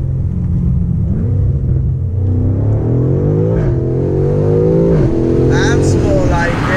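A BMW M5 First Edition engine rumbles loudly as it revs up through gear shifts, its pitch climbing and dropping at each change, with a voice talking over it inside the cabin.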